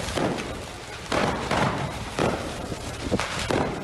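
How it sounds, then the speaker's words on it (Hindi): Fireworks and firecrackers bursting inside a burning factory, a dense run of repeated loud thumping blasts and crackles about every half second over a continuous roar of fire. "वहां से आतिशबाजी की आवाज के साथ पटाखों से निकल रही चिंगारियां लगातार बाहर आती दिखी"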